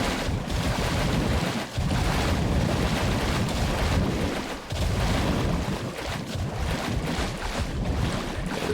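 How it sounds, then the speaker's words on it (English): Rough ocean waves and rushing wind while sailing a boat in the video game The Last Caretaker, a loud, continuous roar of surf and gusts with no break and no talking. "Is it the rough waves, or am I being chased by a shark?"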